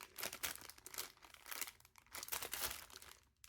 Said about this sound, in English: Sorry for the crinkling if that bothers some of you.